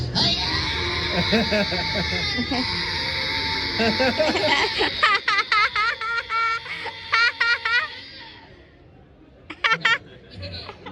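A voice actor imitates a long Japanese anime-style scream, a sustained high shrieking voice that breaks into rapid, choppy bursts and laughter-like yelps, loud and close, with speech-like segments mixed in.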